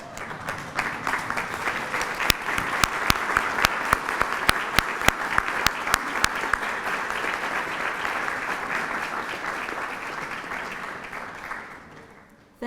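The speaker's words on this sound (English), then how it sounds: "face the audience, and applaud your support network" Standing graduates at a university convocation turn and applaud the audience, a long, full burst of clapping with sharp individual claps standing out, which holds for most of its length before tapering off.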